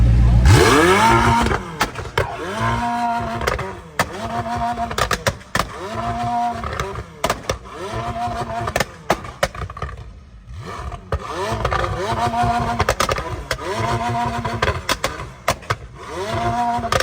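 A high-performance sports car at a car meet revs hard in a series of rising and falling surges, punctuated by sharp, loud exhaust pops and crackles from afterburn, close and repeated over many seconds.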